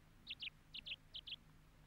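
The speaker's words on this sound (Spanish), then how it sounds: "Señores, ese es el ruiseñor." Nightingale song heard as three pairs of short, high, bright chirping notes in a quick rhythm, fairly close and clear over a faint low background hum.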